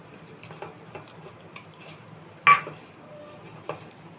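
Gram flour batter with baking soda, turmeric and oil is mixed in a bowl for water lily fritters, making soft, regular tapping strokes and one louder clink of utensil against the bowl.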